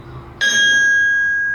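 A carillon bell struck by a pulled wire rings with a sudden bright onset, then a clear sustained tone that hangs undamped and slowly decays, close and loud, with no talking.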